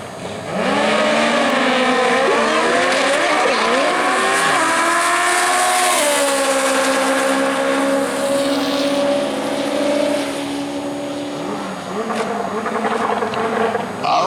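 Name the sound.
drag racing cars launching down the track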